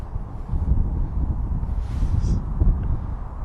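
Steady low wind rumble buffets a microphone outdoors beside a homemade multiband vertical fanned dipole antenna, continuous and fairly loud, with brief gusty swells throughout.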